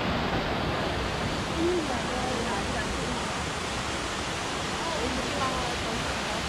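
A waterfall at Biseondae roars in a steady, dense rush of falling water, close and loud throughout.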